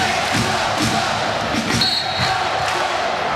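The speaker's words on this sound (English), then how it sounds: "Crowd chants." Crowd chanting fills a college volleyball arena during a Hawaii versus UCSB women's match, a steady, dense roar of many voices with rhythmic swells and a few sharp thumps, sustained throughout.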